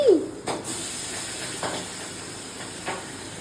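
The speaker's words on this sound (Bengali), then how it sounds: "এটা নাকি মাছ ভাজা হচ্ছে" Fish frying in hot oil in a pan gives a constant hissing sizzle, with a few sharp spits and pops standing out at intervals, close by and with no speech.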